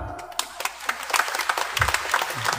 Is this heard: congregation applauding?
yes